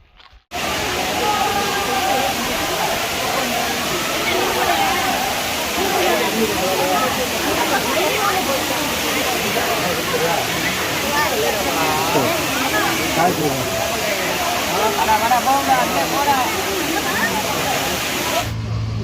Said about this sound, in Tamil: சுர்லி ஃபால்ஸு கிட்டே போயிட்டு அது எப்படி இருக்குன்னு காமிக்கிறேன்